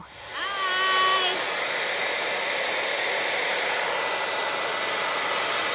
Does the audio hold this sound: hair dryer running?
yes